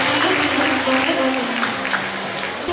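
Audience clapping at a medical camp event, a steady crowd applause with a voice speaking over it throughout.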